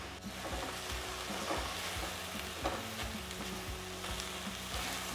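Onions frying in a pot for a vegan Spanish butterbean stew, a continuous loud sizzle with repeated rhythmic scrapes and stirs of a spoon, heard alone without talking.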